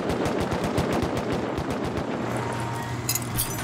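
Sustained automatic gunfire in the video game Rust during a raid, a steady rapid burst of shots close and loud throughout, with a few sharper cracks near the end.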